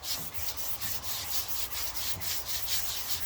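Wood being hand-sanded with 220 and then 320 grit sandpaper during garden tool maintenance, producing a close, steady, raspy rubbing with rhythmic back-and-forth strokes.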